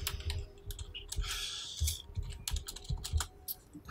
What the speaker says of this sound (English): It's hard to type because I got I have my microphone between me and the keyboard